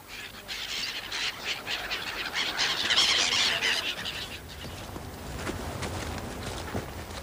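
Birds and swans beg for food at a lakeside promenade on Lake Starnberg near Starnberg, a busy, fairly distant mix of squealing and honking calls with shuffling sounds from the crowd of hungry birds.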